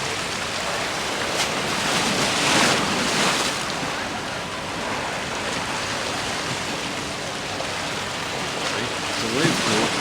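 Water sloshing in the wave pool aboard the cruise ship Celebrity Millennium, a steady broadband wash mixed with wind rumble across the whole stretch, with a few slightly louder surges.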